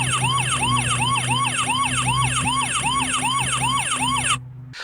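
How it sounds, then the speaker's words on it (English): A Deslock B200 smart lock sounds its siren alarm after a failed authentication: a steady repeating electronic wail that rises and falls about twice a second, moderately loud and close, cutting off abruptly just before the end. "the lock plays a siren sound"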